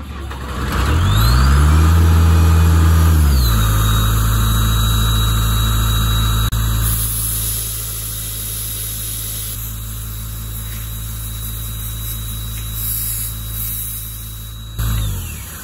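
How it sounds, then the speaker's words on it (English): Steady, loud hiss of a sandblaster engraving lettering into a cemetery stone, with an engine or compressor droning underneath. The noise runs continuously with only slight shifts in level. "Literally gonna fire up the blast and done all at one fell swoop."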